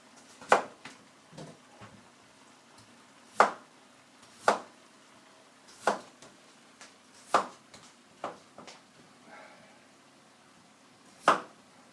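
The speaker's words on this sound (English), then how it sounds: "I just need to make a few more potato slices." Potatoes being sliced on a board, a knife striking in sharp, separate chops at irregular intervals of a second or so, close and clear against a quiet kitchen background.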